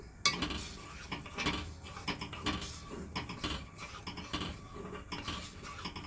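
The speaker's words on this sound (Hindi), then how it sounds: "और अब मैं इसको मिक्स कर लेती हूँ।" Strawberries and sugar being stirred in a pan for a fruit cake dessert, with a steady run of utensil scrapes and clinks against the cookware, fairly close and continuous, with no talking.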